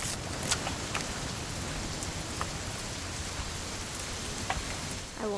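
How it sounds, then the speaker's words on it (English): Steady rain pours in the What Remains of Edith Finch game, a dense hiss of drops on surfaces with a few louder individual splatters, no voices. "It's gonna rain the whole weekend, isn't it?"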